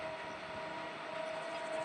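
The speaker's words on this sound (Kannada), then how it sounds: "ಟ್ರೈನ್ ಹೋಗ್ತಾ ಇದೆ." A goods train rolls past at a distance, giving a steady, fairly quiet broadband rumble with a faint thin tone running through the whole stretch and no voices.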